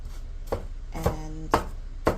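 Vegetables for tomato soup being roughly chopped on a cutting board: four distinct knife strikes about half a second apart, close and crisp, with no talking.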